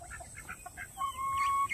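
Chickens and big roosters clucking close by on a farm, a quick run of short clucks followed by a longer drawn-out call.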